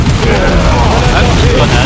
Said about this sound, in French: Ah, petite grenade.